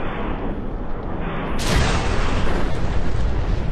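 Dense, rumbling blasts of explosions in Fallout 4 fill the clip, with a sharp bright burst midway and continuous crackling booms afterward, loud and close.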